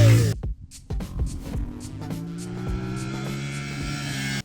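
A CFMoto 450MT motorcycle engine while riding, a steady smooth hum with pitch slowly climbing as revs build after a brief gap, loud and close throughout.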